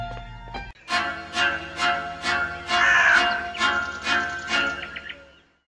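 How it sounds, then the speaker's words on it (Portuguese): A crow caws roughly eight times in a steady series in a video game forest near an urban area, loud and close, with no talking. "Nos deparamos com um corvo com o nome de Oliver gravado no olho do mesmo"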